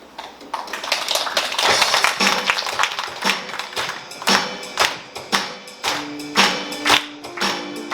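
An audience at a Korean outdoor commemorative event claps in time to a song, steady rhythmic handclaps rising over a musical backing, moderately near and loud.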